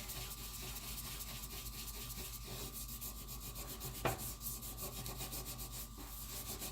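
Steady rubbing and scrubbing over a stainless steel stove top worked in circular motions, a continuous close scouring texture with one brief sharp knock partway through.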